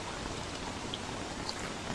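Steady rain in the survival video game Don't Starve: Reign of Giants, a soft, even patter of drops that runs continuously and quietly with no voices.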